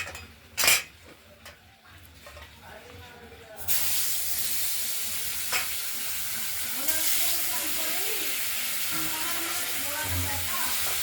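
Utensils clink and a pot knocks before the remaining pabda fish go into hot oil, setting off a loud, steady sizzle that continues to the end.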